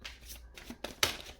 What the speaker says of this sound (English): Shuffling cards be going hard right now.